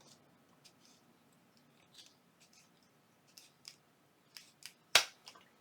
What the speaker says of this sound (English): I'm going to grab my other scissors, ones I use for fabric. I'm just going to trim this.